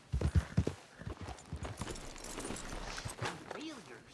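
Horse hooves in the video game Red Dead Redemption II clop in a quick uneven rhythm at the start, then slow down under a voice speaking calmly.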